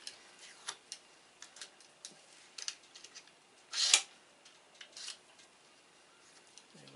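Cutters snip off excess material at a home-made soldering station: a quiet series of short, sharp clicks spaced irregularly, with one louder, longer snip near the middle and faint background hiss.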